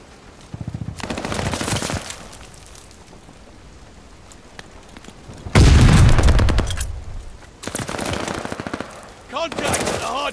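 Video game gunfire at a hard point comes in loud automatic bursts, one around the one-second mark, a heavier barrage near six seconds, then more bursts, separated by quieter gaps.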